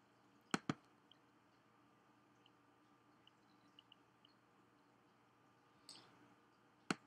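Sharp, close mouse clicks on a computer, a quick double click near the start and another pair after a long, nearly silent pause, with a few faint ticks between.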